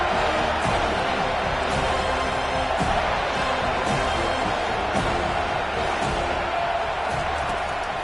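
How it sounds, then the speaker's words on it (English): A roaring crowd of American football fans fills a stadium with a continuous, loud wash of noise that stays dense and unbroken. "The roar of the crowd trying to fuel this defense to keep them pinned in their own end."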